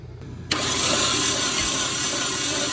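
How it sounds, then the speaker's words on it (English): A rebuilt Hyundai engine is turned over with its oil fill cap off and a spark plug removed. After a quiet moment a sudden, loud, close burst of engine noise starts and carries on as a steady roar. "He's gonna turn it over."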